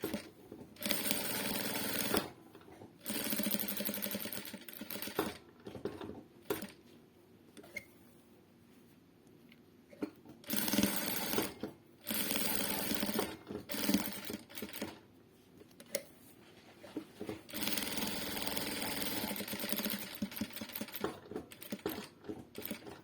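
A sewing machine stitches along the sides of a patchwork quilt in several bursts of rapid whirring, separated by pauses filled with faint clicks and handling noise.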